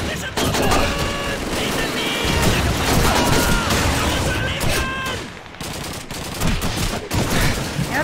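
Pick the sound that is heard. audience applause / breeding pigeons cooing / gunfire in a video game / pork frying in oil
gunfire in a video game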